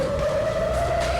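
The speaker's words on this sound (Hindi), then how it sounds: "सुन सकते हैं आप सायरन" An air raid siren wails over Beersheba during a missile attack, holding one steady, slightly rising tone that is mid-distance and constant, with no voices.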